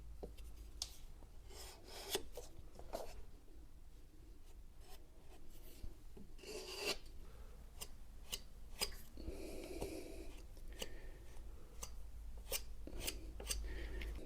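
A filler knife scrapes and rasps in short repeated strokes, forcing wood filler into a skirting board joint, close and fairly quiet, with brief pauses between pushes.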